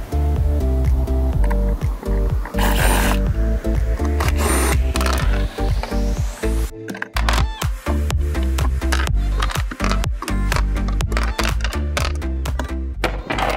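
A power driver whirring in repeated short, loud bursts while removing bolts on a Tesla Model S during a 12V battery installation, close up, with rapid clicking and ratcheting between runs.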